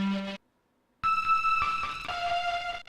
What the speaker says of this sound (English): I also have this one thing in Vital, this synthesizer.